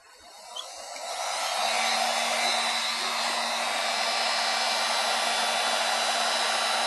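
Heat gun blowing on an aluminum panel during dent repair, a steady loud rushing airflow with a faint motor hum that builds up and holds continuously, no talking.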